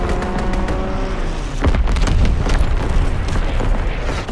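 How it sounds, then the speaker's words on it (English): Division artillery barrage in the Call of Duty: WWII video game: loud, rumbling booms and blasts rolling continuously, heavy low-end explosions layered over one another. "Firing division artillery."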